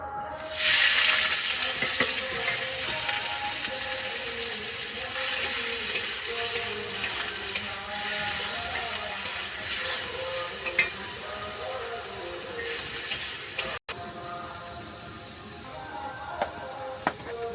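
Soybean chunks fry in hot oil in a kadai, making a dense, steady hiss and sizzle close by that carries on almost unbroken, with no one talking.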